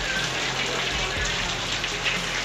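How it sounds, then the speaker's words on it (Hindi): Heavy rain pouring down in Lucknow, Uttar Pradesh, a steady hiss of falling water with low splashing thumps, moderately loud and continuous. "ये देखो कितनी खतरनाक बारिश पड़ रही है, देखो पानी हो रहा है चारों तरफ"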